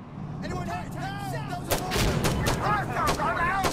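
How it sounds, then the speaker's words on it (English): Rapid gunfire from a minigun in a video game, dense bursts of shots with whining tonal sweeps, loud and continuous across the clip amid other battle noise. "I don't want to get hit by the minigun."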